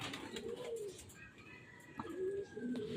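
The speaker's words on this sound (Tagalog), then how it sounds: "Ito yung 14 mga kalapatids." Pigeons coo nearby in a few soft, rounded calls spread across a quiet moment, with faint background ambience.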